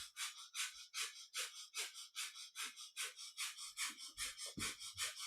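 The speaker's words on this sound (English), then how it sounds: "you're coming all the way back with a breath of fire" Breath of fire in kundalini yoga, a rapid, even series of forceful breaths through the nose, about four per second, close and loud with no talking.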